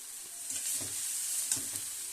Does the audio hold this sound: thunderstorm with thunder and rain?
no